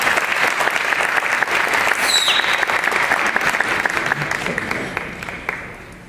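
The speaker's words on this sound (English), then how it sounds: "One more applause for Dominique," Applause from a breakfast-event crowd honoring Martin Luther King Jr. fills the room in a full, sustained burst, then gradually thins and fades toward the end.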